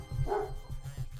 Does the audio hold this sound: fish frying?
no